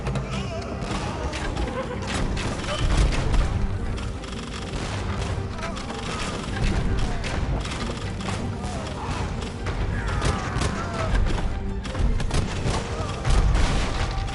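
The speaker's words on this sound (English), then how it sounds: "These bombard cannons are doing work against me." Bombard cannons fire in Age of Empires II Definitive Edition during a Bohemian campaign battle, repeated booming thuds scattered through dense combat noise and unit chatter, with someone speaking over it.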